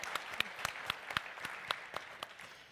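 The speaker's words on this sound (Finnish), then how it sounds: "Annetaan aplodit." A small audience applauding at a Finnish health and social services seminar, with sharp individual claps standing out over a steady patter, moderately close and continuing throughout.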